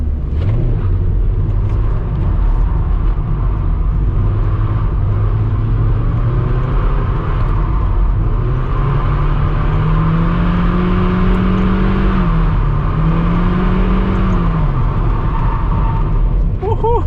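Mazda MX-5 engine revving steadily through a handbrake drift, rising and falling in pitch with sustained tyre-and-engine roar close to the car, under occasional talk from the driver.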